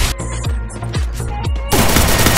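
Rapid bursts of gunfire in a mobile shooter game match, a handful of loud sharp shots in quick succession followed by a dense burst of crackling fire.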